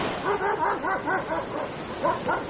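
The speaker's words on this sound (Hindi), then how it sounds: "पर कुत्तों की आवाज जरूर आ रही थी" Dogs bark repeatedly in a quick, steady run of yaps, close and fairly loud, with no talking, used as a sound effect in a Hindi horror story set on a haunted beach at night.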